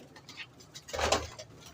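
A golden pigeon gives a soft, muffled coo near the middle, preceded by faint fluttering or rustling close by, all fairly quiet.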